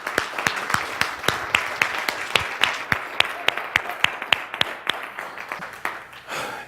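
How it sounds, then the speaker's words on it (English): A small audience gives a round of applause, sparse, distinct claps in a loose steady rhythm, fairly close and alone for several seconds. "give Brenda a round of applause"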